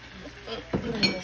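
Spoonfuls of jalapeños added to a pot of grits, a soft clink of a spoon against the pot followed by a second light metallic tap, close and fairly quiet.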